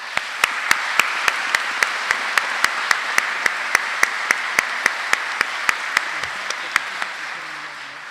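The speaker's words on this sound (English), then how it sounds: "Please applaud them as well" Audience at a graduation ceremony applauding the graduates, a steady wash of many hands clapping with a few sharp, regular claps standing out, tapering slightly near the end as a voice begins.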